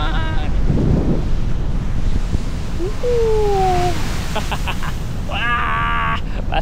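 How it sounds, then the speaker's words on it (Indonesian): Ocean waves pound against coral rocks on the coast at Batu Karas, a continuous loud rushing wash mixed with gusty wind buffeting the microphone, while a person speaks briefly at the start and again near the end. "saya dibuat terkesima dengan suara ombak yang menghantam karang"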